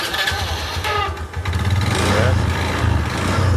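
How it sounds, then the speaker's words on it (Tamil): A motorbike engine is started and settles into a steady, throbbing idle, with someone talking over the running engine throughout. "வண்டி ஸ்டார்ட் பண்ண"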